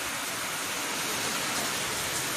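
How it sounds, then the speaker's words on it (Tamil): Heavy rain with wind pours steadily during a storm in Tenkasi district, Tamil Nadu, a dense close hiss of water filling the whole stretch with no voices. "பயங்கரமான மழை நண்பர்களே, காற்று மழையும்."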